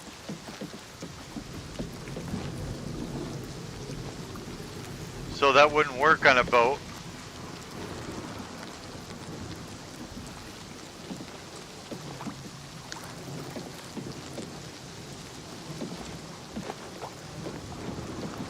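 Steady rain hiss with low rumbling thunder beneath in the game Oblivion, while someone talks over it throughout; a short burst of sharper noise cuts in midway.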